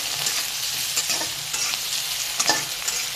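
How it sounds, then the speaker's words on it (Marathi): Garlic and ginger frying in tomato masala for a spicy brinjal curry, a dense continuous sizzle close up with soft scraping stirs throughout and no voices. "लसणाला पण चांगलं भाजू देऊया आणि त्याच्यातच घालूया आपण ही थोडीशी अद्रक"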